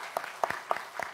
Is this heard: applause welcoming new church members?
yes